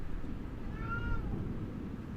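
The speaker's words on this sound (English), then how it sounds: "My cat's sitting outside the room saying," A pet cat meows from just outside a room, one drawn-out meow in the middle over a steady low hum.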